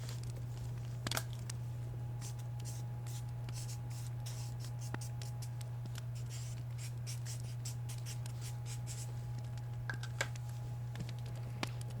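A Sharpie marker scratches and squeaks across a surface in short irregular strokes and dabs, close and quiet, over a constant low electrical hum.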